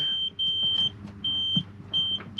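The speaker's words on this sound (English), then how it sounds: "It's beeping there now because I've got the doors open." An Auto Trail Delaware motorhome's door-open warning chime beeps in steady, repeated tones, with a faint hum and a few soft clicks in the background.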